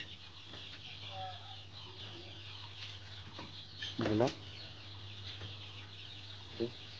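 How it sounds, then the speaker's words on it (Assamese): A single short cluck from a Sonali chicken on a poultry farm rises once over a steady hum, with another faint cluck later and a voice speaking quietly. "ইয়াতে আছে সোণালী মুৰ্গীটো।"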